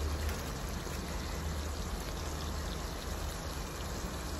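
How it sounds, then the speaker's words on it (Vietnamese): Steady rain falls as a dense, even hiss that stays loud and unbroken throughout, with no voices. "Sáng giờ mưa quá chừng luôn"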